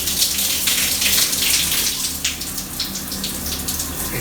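A Grohe Geneva shower head sprays water through its five centre jets, making a steady, bright hiss that continues throughout with no talking.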